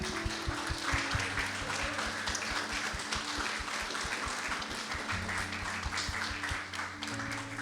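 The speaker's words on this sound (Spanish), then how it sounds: "Le damos un aplauso a todas las mamás que se encuentran aquí el día de hoy." A church congregation applauds the mothers present at a Sunday service, a dense, steady wash of clapping that carries on over sustained keyboard tones.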